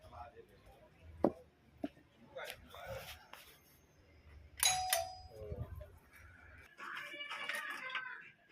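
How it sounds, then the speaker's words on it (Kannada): A doorbell rings at a home entrance, giving a pair of clear chiming tones midway and a longer ringing stretch near the end, with people talking nearby and some footsteps and handling noise. "ಬೆಲ್ ಮಾಡೋಣ ಬರ್ರಿ. ಬೆಲ್ ಮಾಡಿ ಒಳಗೆ ಹೋಗೋಣ."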